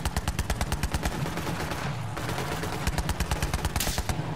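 Rapid bursts of automatic gunfire from a vehicle in Borderlands 3, sharp rhythmic volleys rattling loudly with a brief pause midway.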